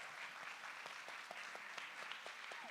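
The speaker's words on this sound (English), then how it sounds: "Please, another huge round of applause." An audience at a luxury event-industry fireside chat gives the speakers another round of applause. The clapping is faint and steady, heard from a distance, with brief whoops and voices mixed in.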